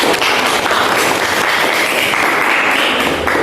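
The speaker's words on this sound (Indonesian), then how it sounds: "Oke, tepuk tangan untuk kelompok 5." Classroom applause for a student group, a loud, dense burst of many hands clapping close by that continues without a break for a few seconds.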